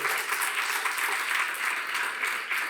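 Church audience at City Church Barcelona applauding, a dense continuous wash of clapping heard throughout, fairly loud and even with no breaks.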